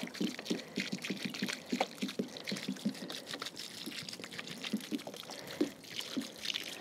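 Rainwater poured from a container onto a newly planted rose in a pot, giving a steady splashing trickle with soft irregular gurgles, fairly close and continuous without any talking.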